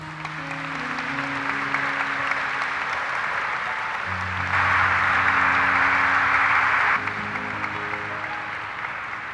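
A church congregation at a basilica claps throughout, over sustained organ-like tones, swelling louder for a few seconds midway before easing back.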